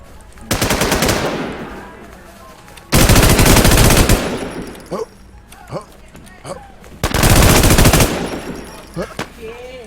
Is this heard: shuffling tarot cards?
no